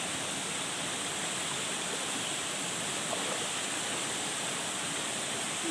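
Small fifth-tier waterfall at Khao Sip Ha Chan in Chanthaburi, with clear cool water running over a rock terrace, giving a steady, even rush of flowing water that holds at one level throughout with no voices.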